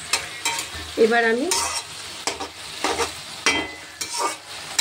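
Eggplant pieces added to potatoes and greens fry in a pan, with a bright sizzle and repeated scraping stirs from a utensil; someone speaks briefly over the cooking near the start.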